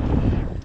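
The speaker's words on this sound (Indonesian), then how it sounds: "Angin agak padu." Strong wind at an island campsite on Pulau Talang, heard as a loud, low, blustery roar buffeting the microphone for the whole moment, with nothing else distinct above it.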